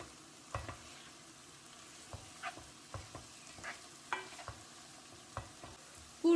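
Onions and tomato paste sautéing in a pan, a quiet steady sizzle broken by irregular scraping stirs of a utensil, close and alone with no talking.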